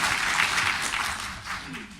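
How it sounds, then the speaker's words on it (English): Audience applause for Justice Ryan at a forum on truth finding and victim compensation: a short, fairly soft wash of clapping from a seated crowd that fades slightly toward the end. "A round of applause for Justice Ryan."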